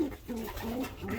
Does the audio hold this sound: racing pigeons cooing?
yes